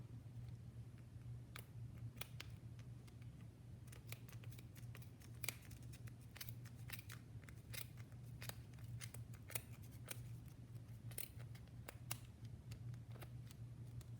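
Scissors snip through yarn for a pom pom in sharp, irregular clicks over a low steady hum, faint and close, with no talking.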